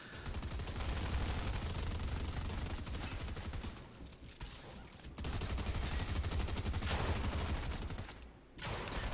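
Dense, continuous Fortnite gunfire from a duos match rattles through most of the stretch, with brief lulls before the shooting resumes loudly; no one talks.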